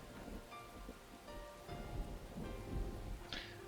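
Thunder rumbles low and long through steady rain pattering on surfaces in the Aokana video game, a soft storm bed with a few brighter drops and tones sounding over it.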